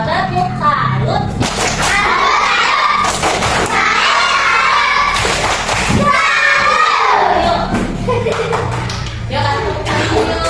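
Children in a classroom perform a 'tepuk salut' clapping routine, sharp clustered claps in a patterned rhythm mixed with chanting voices, loud and near throughout.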